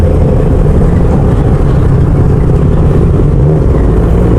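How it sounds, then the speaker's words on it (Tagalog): Big BMW motorcycles ride past in heavy expressway traffic: a loud, close, continuous engine roar and rumble with no break. "Lalaki ng mga motor, ah. Puro mga ano, ah, BMW, ah."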